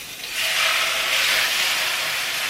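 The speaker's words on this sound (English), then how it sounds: "we're gonna get some nice sizzle here as this drops in the pan" Chicken drops into a preheated, oiled pan over medium heat and at once sets off a loud, steady sizzle. The close, hissing crackle holds for the rest of the moment.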